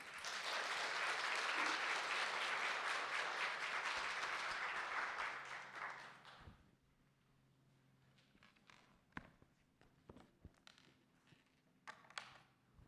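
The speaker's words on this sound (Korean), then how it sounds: "여러분 나오실 때 우리 큰 박수로 환영했으면 좋겠습니다" Church congregation giving a loud round of applause to welcome a visiting pastor, dense clapping for about six seconds that fades out, followed by a quiet room with scattered knocks and shuffling sounds.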